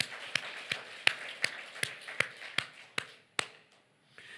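A church congregation claps in a steady, even rhythm, about ten sharp claps at moderate volume that slow and fade near the end.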